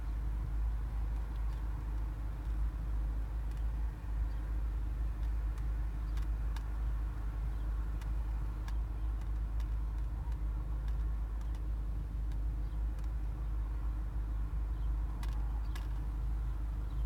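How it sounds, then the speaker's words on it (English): A 2014-or-later Mazda 3 idles steadily while its engine warms up, a low continuous rumble that stays even and unbroken throughout, with no talking. "Probably should have started my car up ahead of time and let the engine warm up"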